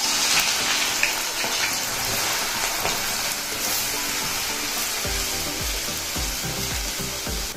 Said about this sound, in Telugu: ఇప్పుడు ఉల్లిపాయలు దోరగా వేగుతున్నాయి కదా